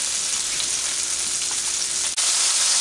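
Onions sautéing with panch phoron, the Bengali five-spice mix, in a hot pan: a steady, close, loud sizzle with fine crackling spatter, briefly interrupted near the end before resuming.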